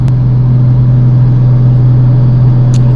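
1995 Mercedes E300 turbo diesel running steadily while driving, a loud, constant low drone with a fixed hum and no talk.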